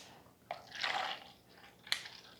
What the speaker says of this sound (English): I'm going to be pouring us some orange juice.